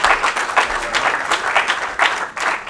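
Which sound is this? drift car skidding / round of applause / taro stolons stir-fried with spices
round of applause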